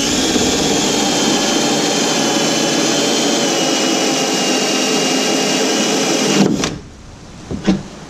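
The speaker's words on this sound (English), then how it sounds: "And then I'll use my hole saw to trim it out after I put it in high gear." A drill-driven hole saw cuts through a RZR seat mount with a loud, steady high-pitched grinding whine that runs for about six seconds, then stops abruptly, followed by a couple of faint clunks.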